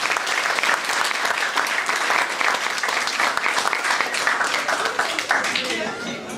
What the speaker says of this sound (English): If we could have a round of applause for the staff here today